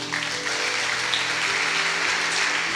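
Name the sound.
congregation applause in church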